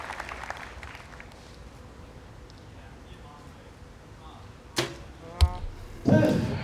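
Compound bow arrow shots at a men's quarterfinal archery match in Odense: two sharp, crisp impacts in quick succession near the end, followed by a burst of applause, with quiet crowd murmur and commentary underneath.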